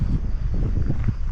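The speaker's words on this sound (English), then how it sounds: "it's windy" Desert wind buffeting a microphone, a low, rumbling gusty roar that stays loud and close throughout the brief moment, with no voices over it.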